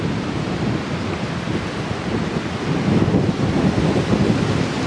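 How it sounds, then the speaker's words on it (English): Strong wind gusts buffet a camping spot up high, a steady roar of rumbling air noise that swells louder toward the end, with no talk. "It's kind of windy up here."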